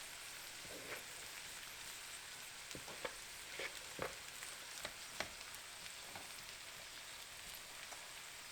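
Rice stirred and fried in a pan alongside scrambled eggs, a faint steady sizzle with scattered scraping and tapping from the utensil.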